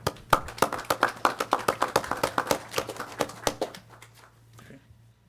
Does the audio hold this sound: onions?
no